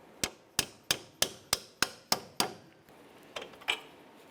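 Hammer blows driving out the front lower ball joint on a 2005-2010 Chevrolet Cobalt, eight sharp metallic strikes in a steady rhythm, then a pause and a few lighter, quieter taps.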